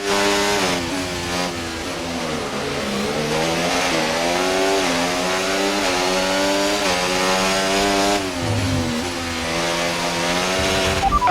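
An overheating F1 race car engine in the F1 24 video game screams at high revs almost continuously, loud and close, with repeated rising pitch sweeps as it shifts through gears and a brief dip near the end.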